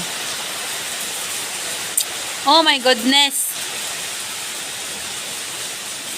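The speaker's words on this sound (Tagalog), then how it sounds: "Lakas ng ulan. Ulan pa more." Steady, dense roar of heavy rain pouring throughout, with a person briefly exclaiming partway through.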